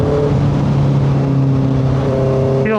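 A 2025 Honda CBR650R engine runs loud and close, its harmonic drone holding steady then shifting pitch as revs change near the end, with no talk.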